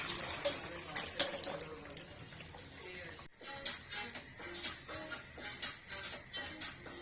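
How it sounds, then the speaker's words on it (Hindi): Kitchen tap water runs over bitter gourds being washed, a fluctuating splash and trickle close by with uneven bursts as the vegetables are turned under the stream. "अब हमने टूटी के नीचे रख लिए हैं और ऊपर से अपने पानी पिला दिया है"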